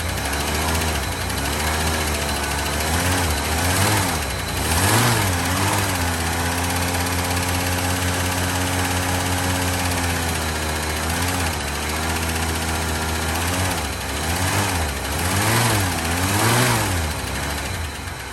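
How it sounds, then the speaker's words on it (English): The engine of a 1984 Fox Body car, which sat unused for 20 years, idles loud and close in a steady low rumble. The pitch rises and falls in a few gentle revs along the way, with no talking. "We'll just let it idle for a little bit."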